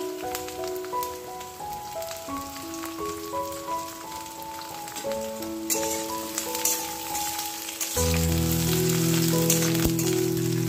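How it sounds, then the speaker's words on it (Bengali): Whole garlic cloves drop into hot ghee with browned onions and fry with a steady, rain-like sizzle beneath prominent melodic background music; the crackle swells louder in the final few seconds. "এবার আমি এই রসুনগুলো দিচ্ছি।"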